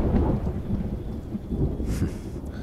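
Thunder rolls with heavy rain in a movie scene, a deep sustained rumble swelling and fading over steady rain hiss, loud and close throughout the short stretch.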